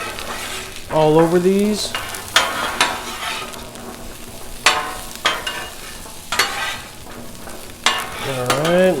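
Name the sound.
tater tots sizzling in oil on a Blackstone griddle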